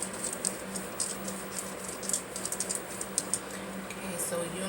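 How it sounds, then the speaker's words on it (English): Small crystals click and clack together close by in a quick, irregular series of light taps over a steady background hiss, with no talking. "You hear the click clacking. It's just my crystals."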